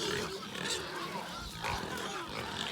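Iberian pigs on a farm, being moved to a new area, grunt and snuffle continuously at close range, a busy rough mix of low oinks and squeals filling the whole stretch.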